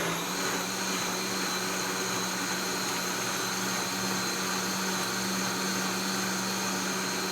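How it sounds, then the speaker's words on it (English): A high-powered blender whirs steadily as it purées hot tomato soup, a loud, continuous motor roar with a grinding rush of liquid that holds an even pitch throughout, with no talking over it. "especially when you got a nice high-powered blender like this"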